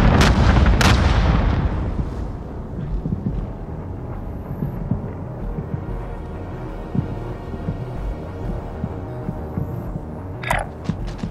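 Heavy bombing-run explosions in the Call of Duty Warzone video game, with a loud booming blast at the start followed by a long rumbling, crackling tail of distant impacts and a brief sharp burst near the end.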